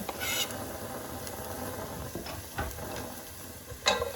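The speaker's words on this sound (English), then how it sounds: "I'm going to let these onions saute a little bit" Onions sauté in a pan with a faint, steady sizzle, broken by a few soft clicks and scrapes of stirring.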